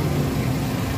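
A Suzuki Wagon R Stingray with a CVT automatic idles, a steady low hum heard up close with no other sounds.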